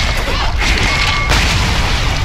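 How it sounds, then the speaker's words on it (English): Gragas's ultimate explosion in League of Legends lands as a loud, dense boom, with continuous crashing game noise filling the moment and no talk over it. "That is the Gragas ult burn."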